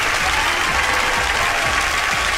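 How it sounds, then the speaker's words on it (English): Dense, steady applause from an audience fills the whole stretch at an even, loud level, with no voices breaking through. "Applause again."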